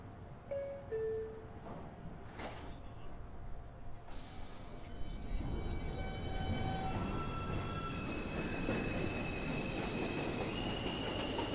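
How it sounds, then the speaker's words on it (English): A New York City subway 2 express train bound for Flatbush Avenue rumbles along at steady speed, wheels squealing in long high tones over a continuous loud roar of the car interior, with no talk. "This is a Brooklyn College Flatbush Avenue bound 2 express train."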